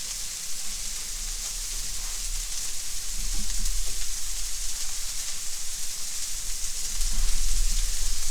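Smash burgers searing on a Blackstone griddle seasoned with a little olive oil, a loud, continuous hiss and crackle that swells slightly toward the end, with no talking.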